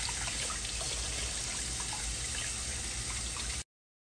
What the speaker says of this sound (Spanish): Yo aquí los voy a lavar y los voy a sacar de ahí, del agua